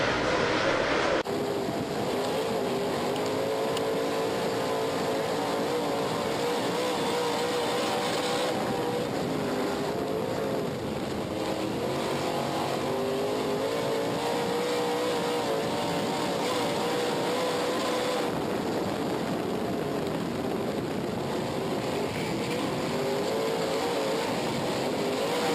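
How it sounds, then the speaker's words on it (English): Scout-built race cars accelerating down a back straightaway at a racetrack, a loud sustained engine roar with shifting rumbling tones and changes in character as they pass, continuous throughout. "There you see the cars beginning to come up to racing speed as they head down the back straightaway."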